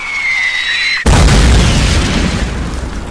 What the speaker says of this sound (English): Huge explosion. You feel it rocking in the ground.